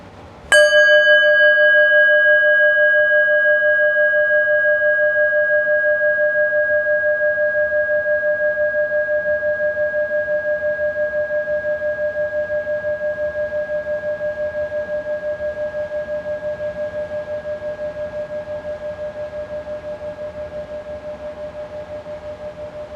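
A single bell struck once during a Buddhist dharma talk, ringing out clearly and then slowly fading for over twenty seconds with no one speaking.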